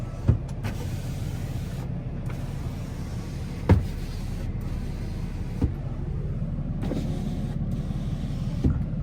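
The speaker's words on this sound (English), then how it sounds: "Power folding mirrors." The power folding mirrors on a 2017 Ram 2500 Laramie 4x4 truck whir as their motors run, giving a low mechanical hum over the idling truck, with a few soft clunks as the mirrors stop.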